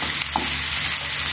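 Cauliflower and egg stir-fried in a pan, a steady close sizzle and frying hiss running continuously, with a faint tap of a utensil near the middle.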